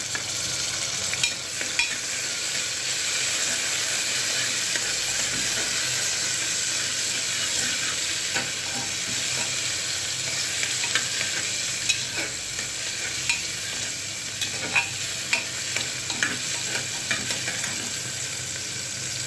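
Tomatoes added to a pan for a cluster beans sabzi fry with a soft, continuous sizzle, overlaid by scraping stirring clicks at irregular intervals throughout.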